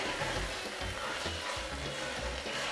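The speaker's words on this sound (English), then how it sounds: "So I do it in batches and I just stir." Vegetables sizzle and fry in yam sauce on a gas cooker, a dense, even crackle close by with soft stirring movements, no talk.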